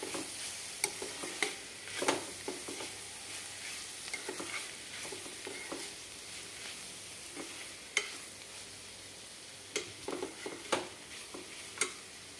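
Garam masala mixture stirred and fried in a pan, a continuous soft sizzle broken by repeated spatula scrapes and occasional sharp clacks against the pan, close and fairly quiet, with no voices.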